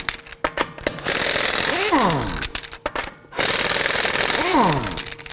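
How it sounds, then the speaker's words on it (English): Impact wrench with a 21mm socket loosening and removing the front wheel lug nuts on a 2018-2024 Toyota Camry: two sustained loud rattling bursts, each winding down in pitch as the nut spins free, with clicks between. "we're going to loosen and remove the lug nuts"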